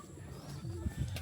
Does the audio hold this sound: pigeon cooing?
yes